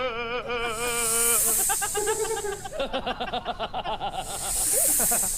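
A long, loud snake-like hiss opens and closes the moment, with a voice talking in between.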